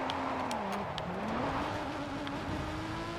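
A turbocharged car engine revs steadily around 4,000 RPM, its droning note sliding and climbing with a slight lag in boost, loud and continuous with some road and wind noise.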